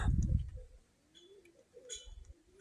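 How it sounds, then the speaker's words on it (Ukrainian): Domestic pigeons coo in a home pigeon loft, soft low murmuring calls at moderate distance, preceded by a brief loud rustle or flutter and mixed with faint ticking and clicking. "Ось, мій домашній голубідром."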